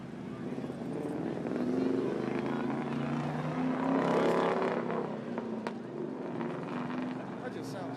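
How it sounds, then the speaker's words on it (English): A Ford Mustang engine revving at a late-night street car meet, a loud rising and falling roar swelling mid-way and easing off, with people talking over it nearby. "I ain't never heard a Mustang that sound like that."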